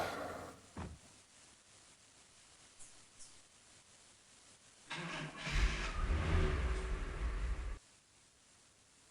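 A car engine starts in the Police Quest 1 video game, a rough, strained crank that builds into a loud low rumble for a couple of seconds and then cuts off, after faint scattered sounds.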